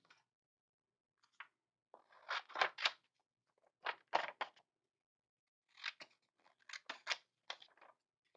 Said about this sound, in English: So maybe I'll cut like this part out right here,